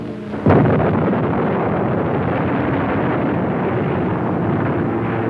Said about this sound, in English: Flights of unopposed German bombers flew low over the center of Rotterdam and methodically bombed it into a heap of rubble